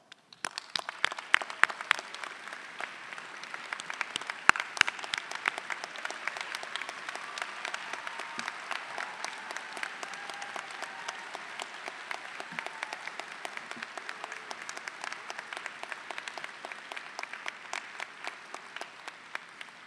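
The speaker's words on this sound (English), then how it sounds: "please stand for our applause" Sustained applause from a large audience at a 2023 university commencement ceremony, steady dense clapping rolling on for the full length, heard from within the hall.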